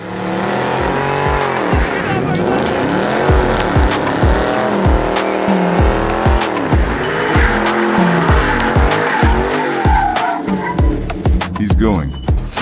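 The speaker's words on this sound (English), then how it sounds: "And I convinced the owner to burn the first tire." A Dodge Charger Hemi does a burnout, its V8 revving in repeated surges while the tires squeal and skid loudly and close by, with voices faintly underneath.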